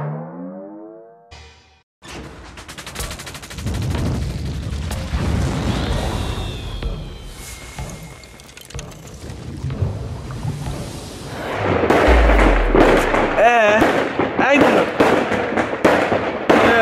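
Thrown New Year's fireworks and firecrackers go off outdoors in a series of sharp bangs and crackling bursts, loudest and densest toward the end, while people talk and shout nearby.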